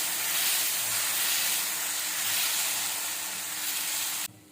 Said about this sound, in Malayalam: ദോശക്കല്ല് ചൂടായി കഴിഞ്ഞു. ഇനി നമുക്കൊരു തവി മാവ് ഇതിലേക്ക് ഒഴിച്ച് നന്നായി